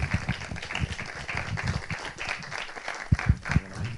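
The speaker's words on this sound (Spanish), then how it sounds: "Bueno, pues vamos con un aplauso a Boris Guerretz esta mañana." An audience applauds a speaker at a master class, fairly quiet scattered clapping with a few louder individual claps near the end.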